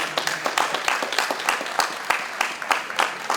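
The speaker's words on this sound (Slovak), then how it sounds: "Takže poprosím ešte jeden veľký potlesk." An audience at a town running race ceremony in Nové Zámky claps in a brisk, uneven patter of individual hand claps. The applause is moderately close and fairly thin, as from a modest crowd, with no voices over it.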